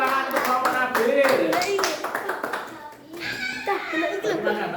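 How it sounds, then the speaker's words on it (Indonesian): Young children in a class clap for a student group, brief patchy claps mixed with kids' voices and chatter throughout, close and busy. "Beri tepuk tangan untuk kelompok Nabil."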